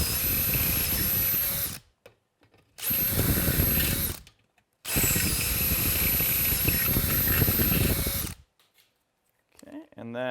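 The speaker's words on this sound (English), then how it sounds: "We're going to drill through the plate and one wall of the box" A power drill bores through a plate and one wall of a box in three loud, sustained bursts separated by short pauses, whining steadily up close, with brief faint handling noise at the end.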